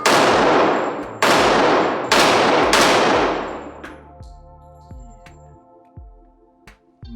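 A Remington 1911 R1 Enhanced .45 ACP pistol fires four loud, evenly spaced shots, each with a long ringing decay, followed by lighter metallic clinks that fade out.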